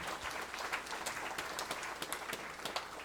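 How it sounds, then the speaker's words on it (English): Wedding guests clap at a toast, a dense steady round of applause with sharp individual claps standing out, close and fairly loud throughout. "just really a quick round of applause for everyone, truly"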